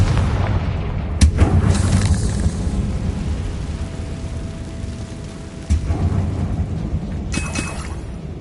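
A Confringo fire spell goes off in a Harry Potter video game, a loud booming blast near the start followed by a rumbling roar and a second burst near the end, with no talk.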